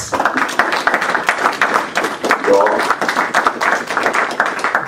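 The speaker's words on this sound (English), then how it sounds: "round of applause for the guys, please" Brief audience applause for presenters at a telecom conference, with a burst of dense, close clapping lasting about five seconds.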